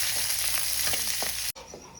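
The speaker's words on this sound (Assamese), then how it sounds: "ভাজি আছোঁ পিঁয়াজ হৈ গৈছে পিঁয়াজ ভাজা" Onions frying in hot oil in a wok, a close crackling sizzle with a few stirring scrapes near the middle, cut off by a sudden brief dropout before the sizzle resumes more quietly at the end.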